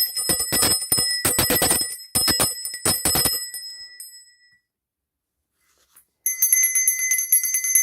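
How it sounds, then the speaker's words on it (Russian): A chrome bell rings in quick repeated bright strikes, then trails off into a pause of near silence before ringing loudly again, each tone clear and metallic with lingering overtones. "Хромовой колокол."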